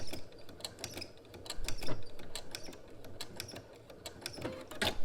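A sewing machine back stitching along the band of a robe, bursts of quick needle clatter that start and stop, fairly close and alone.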